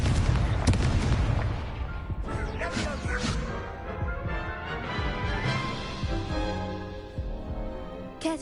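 Confringo blasting spells explode in Hogwarts Legacy, a rapid string of loud, booming blasts with sharp crackling bursts, several in quick succession, then a rumbling tail of debris as the fight sound carries on.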